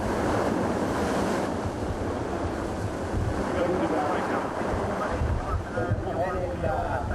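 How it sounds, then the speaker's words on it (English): Ocean surf at the Pozo windsurfing contest rolls in as a loud, continuous roar of waves mixed with gusty wind buffeting the microphone, with a commentator talking over it. "As the waves build, Dida back loops while Colette forward loops"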